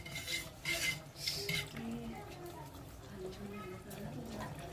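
A spoon stirring veg momo chutney with soy sauce and salt in a pan, scraping and clinking against the metal, with a person speaking over it.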